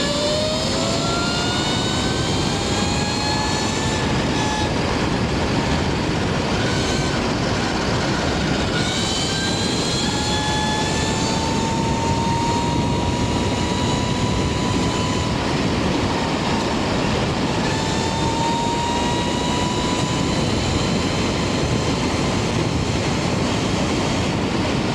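A 72V Vipcoo H3 electric bike tearing along at high speed gives a loud, constant rush of wind and road roar, with a motor whine rising and falling in pitch across the ride.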